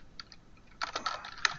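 Typing on a computer keyboard while booking a room, with a few isolated key taps at first, then a dense burst of quick, close clicks near the end.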